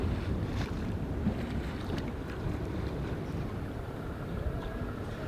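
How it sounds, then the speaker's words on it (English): A sailboat sailing upwind in light wind on the way to the Bay of La Paz, with a steady wash of wind noise and water rushing along the hull, continuous and even throughout. "We sailed off the hook and set our sights to the Bay of La Paz, about 100 miles away."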